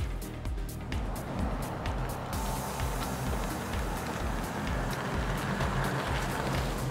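A Roush Stage 3 Mustang pulls away, its engine a low, steady rumble heard from nearby and holding a constant drone without talk.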